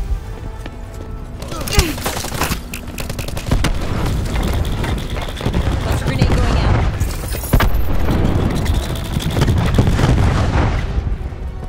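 Cluster grenade detonations in the game Call of Duty: Black Ops 4, with a rapid chain of heavy booms and rumbling blasts over gunfire and battle noise, loud and continuous.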